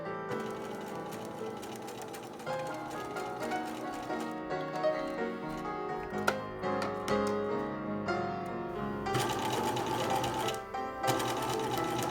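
Domestic sewing machine stitching fabric bias strips together into long dress ties, a steady running whir with uneven stops and restarts, close and fairly loud, with no talking.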